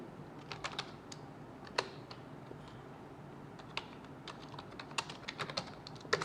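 Someone types a student's name into an Excel sheet on a computer keyboard: scattered light key clicks in uneven bursts with short pauses, close and quiet, with no talking.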